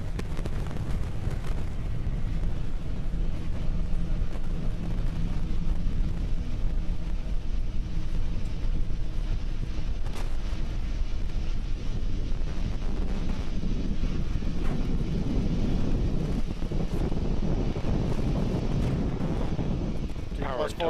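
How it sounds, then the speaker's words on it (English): Roaring rumble of a SpaceX Falcon 9 rocket launch, its nine Merlin 1D engines producing a steady, loud low-frequency thunder with crackling texture throughout, heard through wind buffeting on the microphone. "We're currently throttling down the nine Merlin 1D engines on the first stage"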